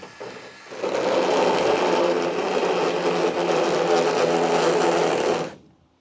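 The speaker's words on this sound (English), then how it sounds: "Thin cutting wheel. I might get the Dremel out" Dremel rotary tool with a thin cutting wheel spinning up and cutting steadily for several seconds, a loud close buzzing whir that stops abruptly.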